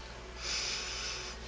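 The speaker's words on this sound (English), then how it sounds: "Now I'm going to take a sniff test." A single quiet, close sniff lasts about a second as someone smells a bar of homemade lye soap, and the room is otherwise hushed.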